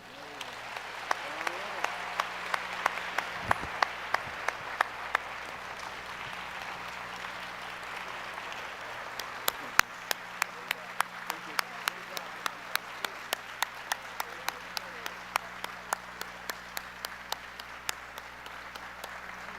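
Audience applause at a Martin Luther King symposium keynote, a steady wash of many hands with a few sharper nearby claps standing out, holding at a moderate level throughout with no talk over it.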